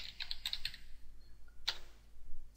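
Computer keyboard keys are tapped in a short quick burst, then a pause and one more sharp keystroke, close and fairly faint against a low steady hum.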